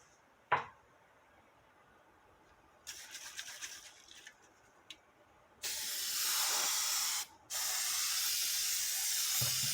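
Spray adhesive hisses onto a Cricut cutting mat inside a box indoors: a short can click and brief bursts, then long, loud, steady sprays with one quick pause, no talking.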